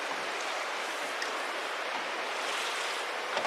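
Water from a bucket poured onto reclaimed locker planters: a continuous, even hiss of splashing water lasting the whole stretch, close and steady with no talk.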